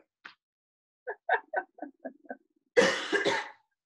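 A person coughing after swallowing water the wrong way: a short cough, then a run of six or so smaller, quick coughs, and finally a louder, harsher burst of coughing, all close up with no talk.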